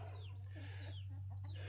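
Rhode Island Red and other chickens clucking softly in a farm run, with a steady low hum running underneath throughout.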